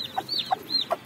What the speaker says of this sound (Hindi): तो अपने इधर वाली मुर्गी देख सकते हो